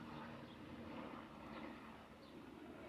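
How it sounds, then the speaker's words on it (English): Helicopter flying overhead outdoors, a steady broad rotor and engine rumble that holds loud and continuous throughout with no talking. "there's not a fucking helicopter over my head"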